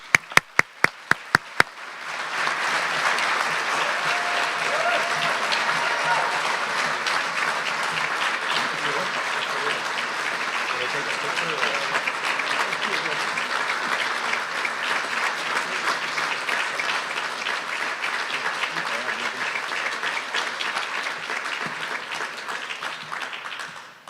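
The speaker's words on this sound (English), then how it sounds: "Please join me in applause" A few sharp single claps give way to sustained, dense audience applause at a business-of-the-year awards ceremony, loud and even for over twenty seconds before tapering off at the end.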